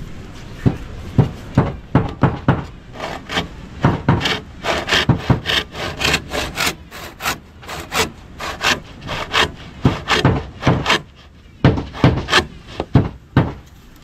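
A hand saw cuts through wood in firm, rhythmic back-and-forth strokes, about two per second, close and loud, with brief pauses between bursts.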